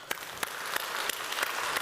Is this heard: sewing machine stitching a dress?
no